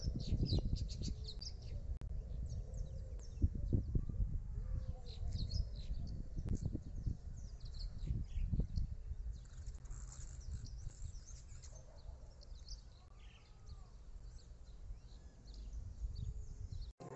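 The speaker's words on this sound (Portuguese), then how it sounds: "Tem um passarinho cantando aqui, ó." A small bird chirps and trills intermittently in the background, faint high calls over a low outdoor rumble and some handling noise.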